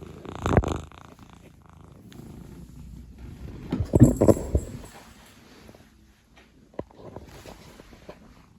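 A pet cat purring up close in a home, a soft low rumble with a few louder bursts and rustling handling noises, no talk.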